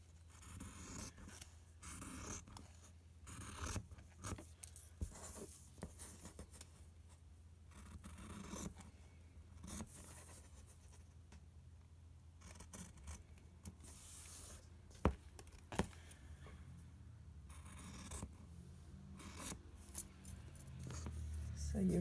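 Scissors cutting out a paper sewing pattern piece for a placket after tracing, giving a run of close, soft snips and paper rustles that come and go across the stretch, with no talking.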